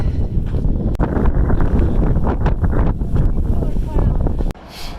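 Strong wind buffeting the microphone on the Pacific Crest Trail in California, a loud, continuous low rumbling roar with gusty surges that cuts off abruptly near the end.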